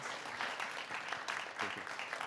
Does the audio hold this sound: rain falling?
no